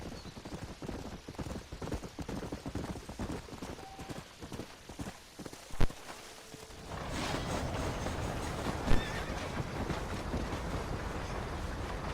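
Steady clip-clop of horse hooves plods along in the video game Red Dead Redemption, with a gusty, windy outdoor wash rising partway through; no neighing stands out.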